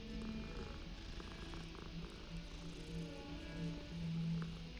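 A calico cat in the video game Hogwarts Legacy purring softly and continuously, a low rumbling hum under steady background game ambience, faint and close with gentle pulsing swells.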